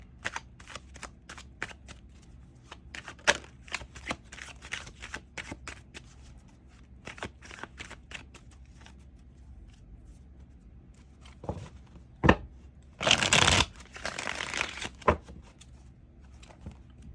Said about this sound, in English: Just want to mix these cards up nice and well.